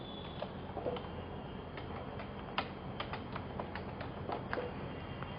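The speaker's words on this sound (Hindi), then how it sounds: "Suppose right now I am typing my name." Quiet, steady typing on a computer keyboard: irregular soft key clicks over a constant hiss of room noise, with no voices.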